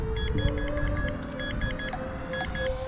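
A metal detector beeps in short repeated bursts, high electronic pips in quick clusters over a faint steady hum, with no talking.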